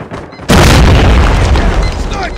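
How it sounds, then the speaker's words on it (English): A grenade in a Call of Duty Mobile match detonates with a sudden, loud, deep boom that rolls on as a rumbling roar, after a brief moment of quieter game sound and a shouted voice. "Grenade!"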